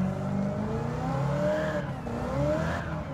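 Dominic's Charger roars in Gran Turismo 7, its engine revving hard with rising and falling pitch as it shifts through gears, with a brief squeal of tires, loud and close with no talking.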